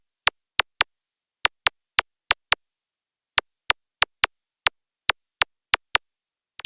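Sharp, bright laser-like ticks programmed as a drill-style hi-hat pattern in FL Studio hit in quick rhythmic bursts with gaps between groups, dry and clean over silence, with a faster roll at the very end.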